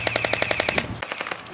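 Orbeez gel blaster firing a rapid burst of about a dozen evenly spaced shots, each a sharp snappy pop with a whirring motor tone behind, followed by a few more scattered shots, close and fairly loud.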